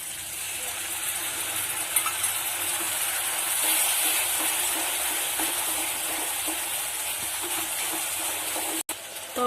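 Whisked yogurt poured into a hot pan for Bengali doi katla, producing a steady hiss and sizzle with faint wet bubbling, close and continuous, with no talk.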